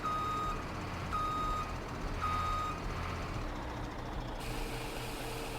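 Reversing beeps from a truck in Farming Simulator 17 on a farm mixing feed, a steady series of high electronic beeps roughly once a second over a constant engine drone, fairly loud and without speech.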